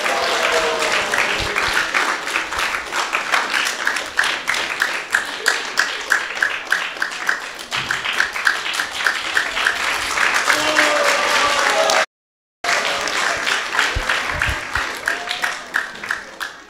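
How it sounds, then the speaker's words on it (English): An audience at a temple gathering gives a speaker a warm round of applause, sustained, dense clapping from many hands that swells and ebbs for most of the time, with a brief gap near the end. "So let's give him a round of applause."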